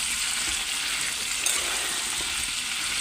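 Potato pieces frying with black cumin in a pan over high gas, making a steady, even sizzle that runs the whole time with no talk.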